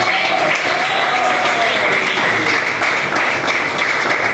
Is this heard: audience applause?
yes